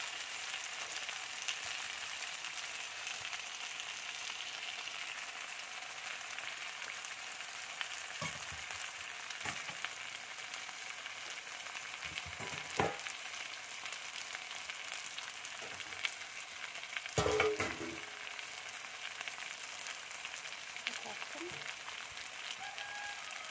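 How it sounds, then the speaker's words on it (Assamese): Mixed vegetables with masala frying in a pan, a steady close sizzle running throughout with occasional clatters of stirring and a sharper scrape near the end, no voices. "এনেকৈ ধুনীয়াকৈ অলপ দেৰি ভাজি ল'ম"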